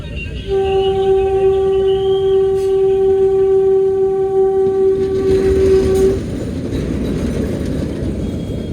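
A train horn sounds one long steady blast while a small, slow train with small coaches rumbles and clatters nearby in Gir, the rolling noise continuing after the horn stops.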